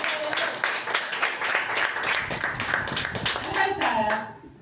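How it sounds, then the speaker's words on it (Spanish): Loud, close applause and clapping from a women's gathering welcoming a female pastor to the panel, a full crowd clapping steadily with voices and cheering mixed in, fading out at the end. "La recibimos con un fuerte aplauso"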